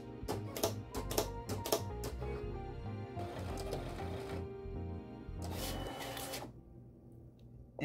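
A vinyl cutting machine runs a cutting mat through with an increased blade depth, giving quick mechanical whirs, clicks and carriage movements in bursts, close and fairly quiet.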